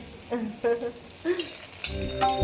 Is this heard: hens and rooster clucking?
no